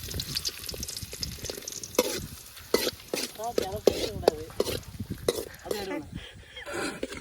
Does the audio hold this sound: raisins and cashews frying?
yes